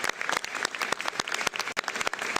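An audience applauds a Canadian roofing company and its 350 workers, a close, lively burst of many hands clapping with distinct individual claps, continuous and without speech.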